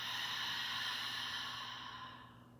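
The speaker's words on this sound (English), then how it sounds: "Begin to breathe in and out of your nose, creating this oceanic sound of constriction of the backs of your throat." A long, breathy exhale drawn through a constricted throat in ujjayi yoga breathing, a soft oceanic hiss that holds steady and then fades out near the end, close and alone.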